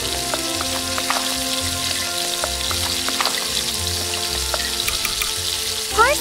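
Potatoes frying in butter with chili powder, a loud, continuous close sizzle with light stirring clinks and scrapes throughout and a brief clatter at the end.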